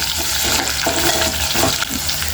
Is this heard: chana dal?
yes